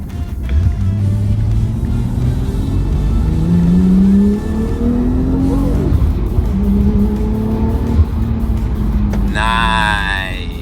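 A Nissan Skyline engine revs hard at a night car meeting in Osaka, Japan, loud and close, with rising and falling pitch sweeps over about ten seconds before a brief higher whine at the end.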